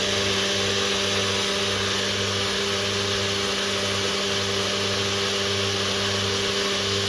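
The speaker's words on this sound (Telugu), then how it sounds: "ఈ 3 ఇంగ్రీడియంట్స్ని మనం ఇప్పుడు మిక్సీ పట్టేసుకుంటే అంతే" A mixer grinder blends mango lassi ingredients, a steady loud motor whir with a low pulsing drone running unbroken throughout, with no talking.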